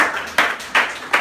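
Three sharp, evenly spaced claps ring out in a church congregation acclaiming the Lord during a French-language service, each crisp burst followed by a short decay, with no talking over them.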